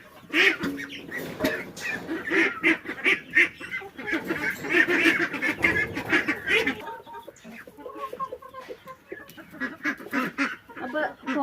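Several ducklings quack and peep in quick, overlapping bursts close by, a busy chorus that thins slightly toward the end, with water being run for them nearby.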